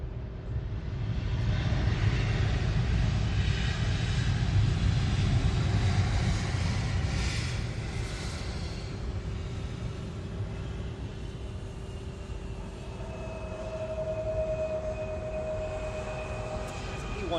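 An Embraer E-175 aircraft at SDF airport, its jet engines a loud, continuous roar that swells early on and then settles into a steady drone with a faint whine, heard from nearby.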